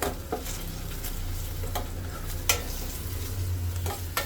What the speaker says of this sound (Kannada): 1 ಟೇಬಲ್ ಸ್ಪೂನ್ ಶುಂಠಿ ಬೆಳ್ಳುಳ್ಳಿ ಪೇಸ್ಟನ್ನು ಹಾಕ್ಕೊಂಡು ಹಸಿ ಸ್ಮೆಲ್ ಹೋಗೋವರೆಗೂ ನೀಟಾಗಿ ಫ್ರೈ ಮಾಡ್ಕೊಳ್ಬೇಕು